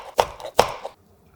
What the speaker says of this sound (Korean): 고소한 베이컨 2장을 두꺼운 걸로 준비해서 1cm 두께로 썰어 담아주세요